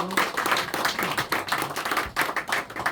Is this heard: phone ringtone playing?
no